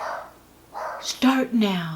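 A dog barks up close in a home during a phone conversation, two or three sharp barks with a whine-like pitch, following a few words of speech.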